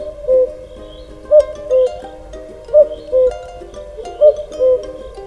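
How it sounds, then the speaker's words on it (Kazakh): A cuckoo calls repeatedly in clear two-note phrases, each a higher note followed by a lower one, spaced at steady intervals and heard alone against a quiet background. "Көкек,"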